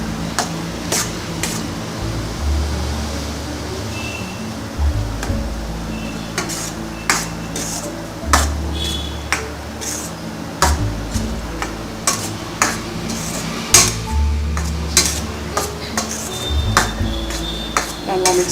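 Boiled snake gourd kootu being stirred in a pan, with a metal spoon repeatedly clinking and scraping against the pan in a steady rhythm, loud and close.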